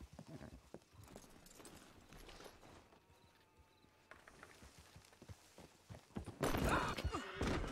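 Horse hooves clip-clop in a ranch roleplay video game, a steady walking rhythm with an occasional whinny, rising to a louder burst near the end.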